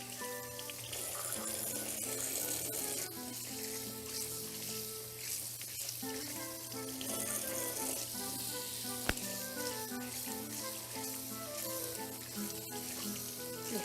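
Cold tap water runs steadily over pieces of tripe in a kitchen sink, a continuous splashing hiss that lasts throughout, with tonal background music underneath.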